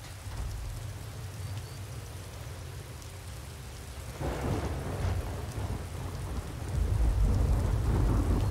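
Steady rain falls in Skyrim, broken by rolling thunder that swells midway and grows heavier and deeper toward the end, with no voices.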